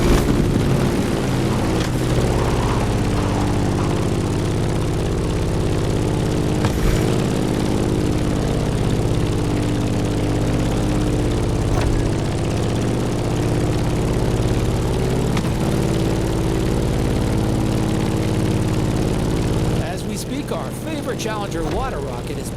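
Grumman F8F Bearcat propeller plane in The Crew Motorfest video game, a steady loud droning engine roar that holds throughout with slight pitch wavers, shifting character near the end.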